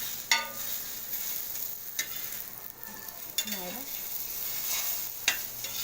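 Egg masala kalakki cooks in a pan, a soft steady sizzle marked by several sharp scrapes and clacks as a spatula stirs and turns it, fairly close with no speech.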